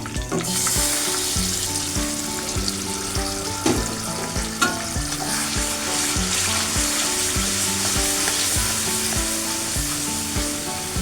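A blended paste of onion, raisins and green chilli hits hot oil and fries with a loud, continuous sizzle, broken by repeated stirring scrapes throughout, with no voices.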